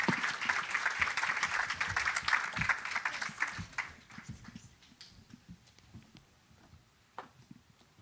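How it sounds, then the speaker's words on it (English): An audience at a tech networking event applauds presenters walking up to the stage, lively close clapping for a few seconds that fades to a few scattered claps and quiet room noise. "So please give them a round of applause as they come up stage"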